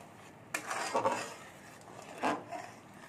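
Rohu fish and fresh coriander stirred together in a pan for a Bengali-style masala fish curry, giving a few short, close clinks and scrapes of a utensil against the pan between quiet pauses.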